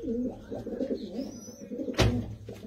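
Domestic pigeons on a Punjabi pigeon loft cooing in soft, repeated throaty phrases close by, with a brief sharp rustle or flap midway through.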